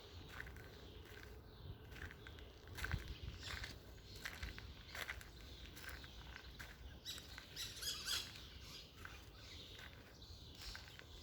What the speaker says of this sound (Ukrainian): Чуєте, скільки птахів тут?